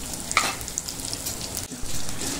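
Onion, green chillies and ginger-garlic paste frying in a pan for veg pulao, a steady soft sizzle with a few light stirring scrapes, close and alone.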